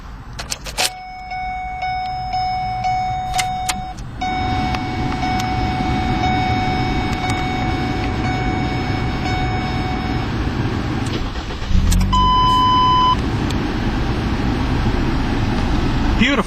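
A 2011 Mazda Tribute i Touring engine cranks and fires up after keys jingle and dashboard chimes ring, then settles into a steady close idle, with a further chime partway through.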